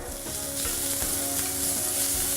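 Garlic sautés in a hot pan until golden brown, a steady, close, continuous sizzle and crackle with no voices.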